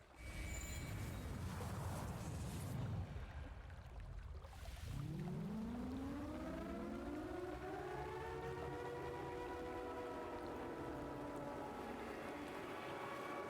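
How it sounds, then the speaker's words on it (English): A wailing siren rises after a noisy start, then holds a long, steady, loud howl with layered tones until the end. "On the run, we hear the sound of a siren."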